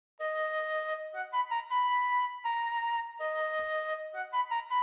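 Synthesized flute melody programmed in FL Studio for a dark trap beat, a soft sustained line broken by several quick short notes, clean and solo with no voices.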